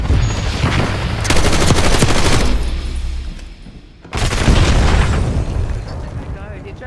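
A Semtex grenade blast and heavy gunfire roar continuously and loudly in a Jurassic Park first-person shooter game, with a dense rumbling barrage that dips briefly before a fresh explosive burst takes over.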